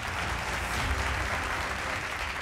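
An audience at a public forum on the Simhastha Kumbh Mela claps steadily, a dense and even burst of applause that carries on without a break and with no voice over it.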